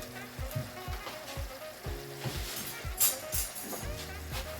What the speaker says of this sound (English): I'm going to add some sliced onion to this while it's cooking.